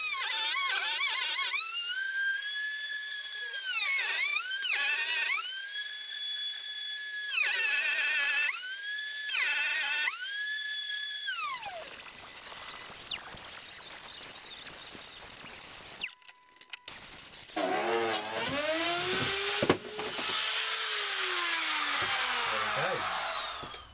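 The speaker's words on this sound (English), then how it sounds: "You can get thinner flush cut bits so you don't have this big groove here, because it's taking out quite a lot of material" A router fitted with a flush cut bit trims wood in a steady, high-pitched whine, revving up and down in several passes before a rougher, louder cutting stretch, close and without talk.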